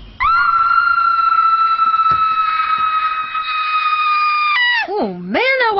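A girl lets out a long, loud, sustained scream that holds steady for several seconds, then breaks into wavering, sliding cries at the end, on a cartoon island summer camp.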